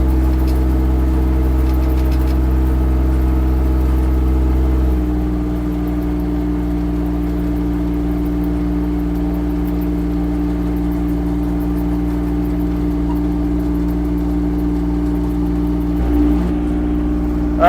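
A diesel Chinese mini excavator engine idles loudly and close, then drops slightly in pitch and holds a steady, even drone for the rest, with a brief bump near the end.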